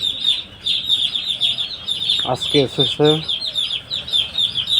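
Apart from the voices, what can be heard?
broiler chicks chirping in a poultry farm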